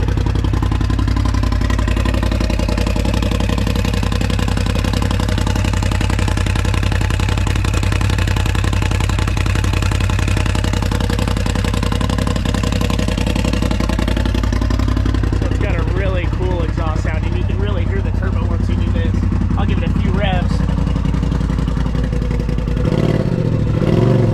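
A Polaris Pro XP side-by-side idles loud and close with its RPM E-Valve exhaust open, a deep throbbing drone that rises into revving blips near the end while someone talks over it.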